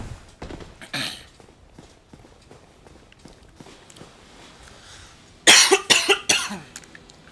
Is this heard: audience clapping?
no